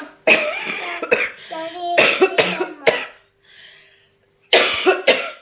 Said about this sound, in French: Il tousse encore.